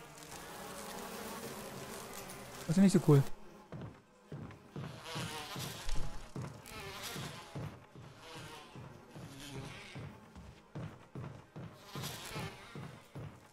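Bees swarming around a large beehive in Resident Evil's residence area, a steady close buzzing drone pulsing in rapid rhythmic bursts, with someone speaking briefly over it early on.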